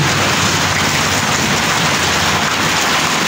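Steady, heavy rain pouring down, a dense continuous hiss of drops with no voices.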